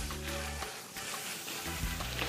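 Butter sizzling on a hot griddle set around 325 degrees, a steady close frying hiss with soft crackles and faint scraping under a low background hum.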